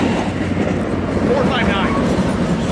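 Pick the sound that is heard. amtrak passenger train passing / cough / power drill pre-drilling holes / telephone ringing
amtrak passenger train passing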